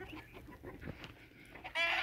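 Hens cluck and squawk softly nearby in scattered bursts at a henhouse, followed by a louder burst of rustling noise at the end.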